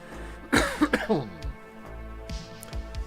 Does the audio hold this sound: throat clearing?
yes